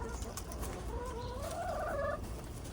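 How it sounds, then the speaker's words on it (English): Soft clucking and warbling calls from chickens, fairly faint, over a low steady background. "Really, really nice chickens here"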